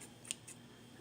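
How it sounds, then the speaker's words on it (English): Scissors snipping through crab legs in a kitchen, a single sharp crisp cut followed by a fainter second snip, close and quiet. "the scissors work better"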